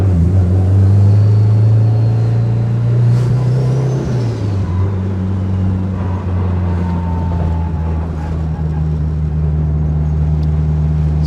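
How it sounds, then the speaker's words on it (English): Subaru Forester with a freshly repaired clutch master cylinder accelerating hard through test pulls, a loud steady engine drone under wind noise with one pitch drop as it shifts, recorded from inside the car. "let's see what happens when we do some pulls and stuff"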